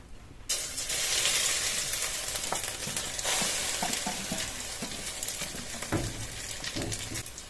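Egg-coated cabbage sizzles in a hot kadai with a little white oil, a bright steady frying hiss broken by occasional scraping stir clicks, close to the microphone with no speech.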